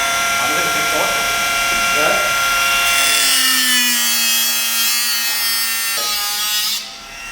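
Hand saw cutting through material during a 2JZ engine build, with rhythmic rasping strokes for the first few seconds, then a scraping, whining tone as someone talks over it.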